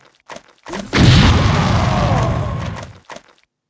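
A heavy explosion booms in the X-Com Apocalypse video game, a loud blast sustained for about two seconds with short bursts of game sound just before and after.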